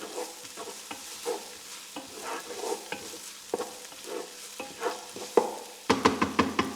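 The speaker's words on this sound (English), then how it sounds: "That literally needs frying for a few seconds." Onion and bacon sizzle in a hot pan while a utensil stirs and scrapes in irregular strokes, close and fairly quiet, with no voices.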